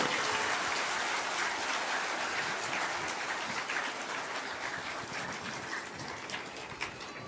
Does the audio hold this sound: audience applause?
yes